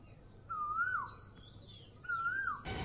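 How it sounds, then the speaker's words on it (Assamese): An Asian koel calls in the early morning, two clear rising whistled notes separated by a pause, fairly close and distinct over quiet background. "কুলিৰ মাত শুনিবলৈ ৰেডিনে"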